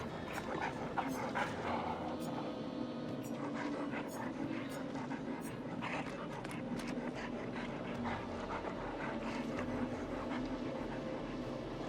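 The hound master's dog in the Dead by Daylight video game, panting steadily with quick repeated breaths and faint whimpers, moderately loud over a busy game soundscape.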